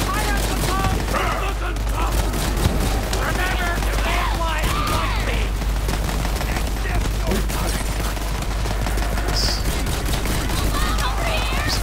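Rapid SMG fire from Borderlands 3 gameplay, with repeated bursts of sharp shots crackling continuously through a busy, loud mix of game effects and voices.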